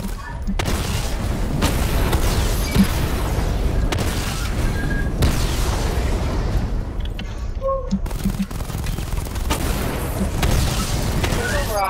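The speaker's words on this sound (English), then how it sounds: "Charge the missile barrage to level 2 to destroy up to 4 targets at once." A video game missile barrage sets off a dense run of booming explosions and rapid blasts over continuous loud action, with voices heard under the din.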